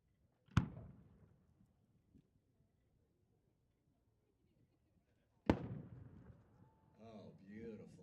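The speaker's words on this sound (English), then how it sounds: "continuing with the 6-inch shells, we have a double brocade from Cliff Pearson" Two 6-inch double brocade firework shells from Cliff Pearson burst at a display, each a sharp loud boom with a fading crackling tail, several seconds apart, with voices after the second.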